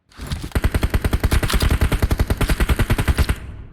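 Rapid automatic gunfire in PUBG Mobile, a loud close burst of evenly spaced shots firing in quick rhythm for about three seconds before cutting off.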